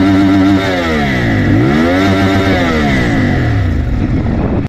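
A CFMoto 450MT motorcycle engine revving loud and close. The pitch dips, then climbs again as the throttle is worked, and the engine keeps running rough at the end.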